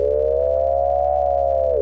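A Serge frequency shifter modulated by an LFO: a smooth synthetic tone warbles with a slow sweeping pitch, steady and loud over a constant low hum, gliding down slightly at the end.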